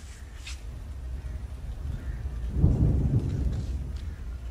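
Low thunder rumbles in the distance during a heavy village thunderstorm, swelling into a deeper roll midway before fading slightly, with faint rain in the background.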